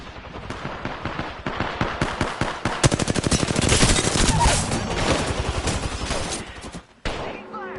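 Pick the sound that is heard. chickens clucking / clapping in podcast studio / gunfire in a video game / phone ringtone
gunfire in a video game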